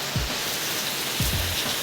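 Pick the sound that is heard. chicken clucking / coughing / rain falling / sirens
rain falling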